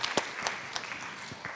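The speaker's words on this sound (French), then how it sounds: "on applaudit Nathalie." An audience at a French film-criticism event gives sparse, scattered applause, a handful of distinct claps spread across a short moment rather than a full ovation.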